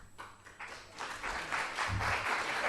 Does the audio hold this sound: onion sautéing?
no